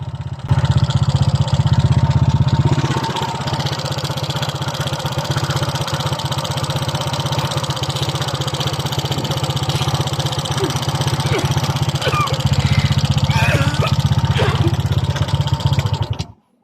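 A Honda Click 125 scooter engine fitted with stage 2 cams and new valve springs idles loudly and steadily with a rough, clattery mechanical rattle, close up, with some people talking faintly.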